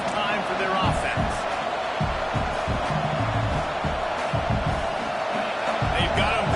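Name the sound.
football stadium crowd noise in video game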